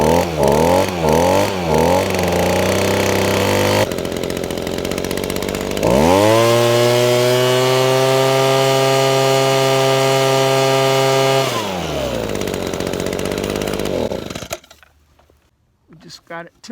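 An Echo ES210 leaf blower runs after a fuel system overhaul, its small two-stroke engine loud and close, blipping unevenly, then holding a sustained high rev before dropping back and cutting out near the end.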